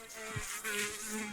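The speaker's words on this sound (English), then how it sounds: "There's like a random ass bee in here." A bee trapped indoors in a room on a rainy day, a steady close insect buzz with a wavering drone that rises and dips as it flies near.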